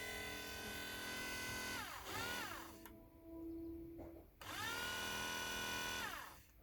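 A hydraulic pump motor from a Ford Transit Mk6 Durashift gearbox, removed and run on a small battery, whirs loudly and steadily, winding down twice and spinning back up, with a brief quieter hum in between.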